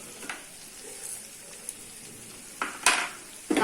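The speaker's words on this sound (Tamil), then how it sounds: "தக்காளி நல்லா வேகிற வரைக்கும் வதக்கி விட்டுக்கோங்க" Tomatoes sauté in a pan for prawn gravy, a soft sizzle and frying crackle with a few louder stirring scrapes and bursts near the end.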